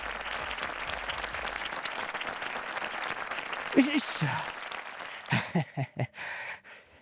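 A small group at a punch-and-kick fitness routine applauds after finishing the workout, with steady clapping for several seconds, then a few voices and exclamations break in as the clapping fades.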